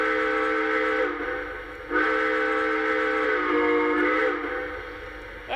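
Steam-style whistle of a Lionel Hudson 1938 Dreyfuss 20th Century Limited model train, giving three chord-like blasts separated by brief dips, loud and close with a steady hum underneath.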